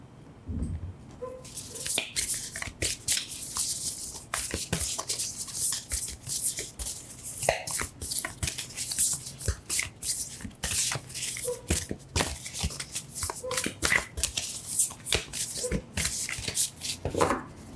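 Tarot cards, including Moonology, Wild Unknown and Archetypes decks, being shuffled by hand in a steady, close riffle and slide of card stock. The rustling runs on continuously without a break.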